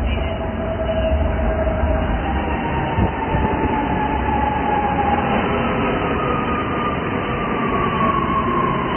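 Los Angeles Metro subway train in motion: a loud, continuous rumbling roar with thin whining tones that rise and fall above it, close and steady throughout, with no speech.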